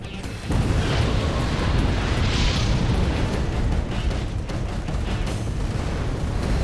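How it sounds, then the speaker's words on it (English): Heavy MAC cannon rounds fire in the Halo Wars strategy game as a loud, sustained booming roar with rumbling low end that swells in quickly and holds steady. "Spinning up Mac rounds. Max firing."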